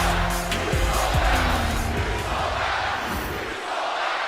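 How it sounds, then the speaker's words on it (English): A wrestling crowd at an MNW Friday Night Flashbang show jeering a wrestler, a loud sustained roar of voices filling the arena with scattered whistles and shouts rising and dipping slightly. "And this crowd giving Spectrum a piece of their mind."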